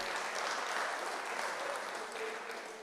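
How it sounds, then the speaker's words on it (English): A townhall audience at a school applauds the discussion panel, with dense, even clapping that fills the room and tapers slightly at the end. "A round of applause for the panel again."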